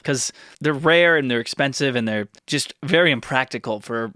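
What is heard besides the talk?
No everyday noises stand out.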